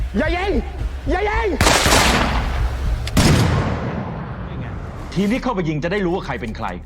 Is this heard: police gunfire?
yes